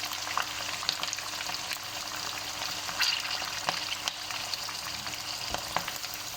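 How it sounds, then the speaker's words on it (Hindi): Chicken with chopped ginger and whole garlic fries over medium flame in a karahi with a constant crackling sizzle, punctuated by occasional stirring clicks and scrapes, close and fairly quiet. "चार मिनट के लिए मीडियम फ्लेम पे फ्राई करेंगे।"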